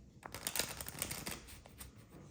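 A deck of playing cards being shuffled, quick crisp riffling bursts close by at low volume, with brief pauses between flurries.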